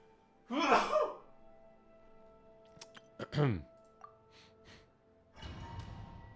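A streamer sneezes once, sharply and close to the microphone, with a short gasp-like burst followed by quieter clicks and a faint breath or rustle afterward.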